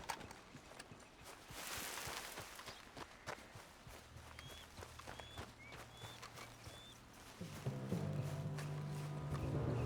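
Horse hooves clip-clop at a steady walking pace in the video game Red Dead Redemption 2, fairly quiet beneath ambient game sounds and a low music drone.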